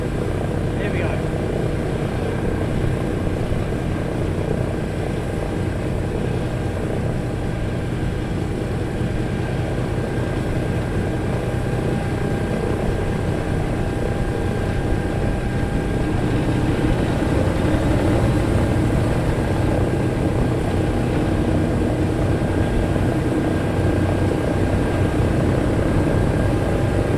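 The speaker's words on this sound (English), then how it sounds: "Next engine to start." Piston engines on a Sky Master aircraft starting up and then running together at an open day, a loud steady drone with propeller rumble throughout, and people talking faintly underneath.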